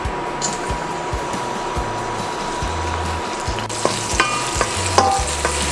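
Onions sautéing in hot oil in a pan for pork binagoongan, giving a continuous close sizzle with repeated stirring scrapes and knocks and a few sharper clinks toward the end.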